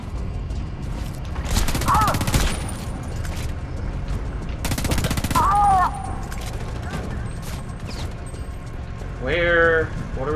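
Shotgun blasts and bursts of gunfire from the first-person shooter game Homefront: The Revolution come in two loud, dense volleys separated by quieter stretches, with a player talking in between.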